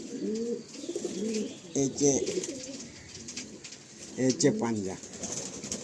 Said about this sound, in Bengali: এটা ঘরের পাকানো পায়রা, মানে ওড়ানো পায়রা